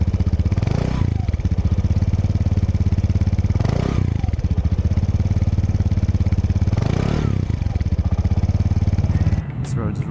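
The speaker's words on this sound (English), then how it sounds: "As far as the exhaust, I think this thing sounds amazing. It's got a nice deep kind of throaty sound to it." A Piaggio Liberty 150S ABS scooter's exhaust drones steadily while riding, a close, deep, throaty engine note with gentle surges every few seconds, and a brief clatter near the end.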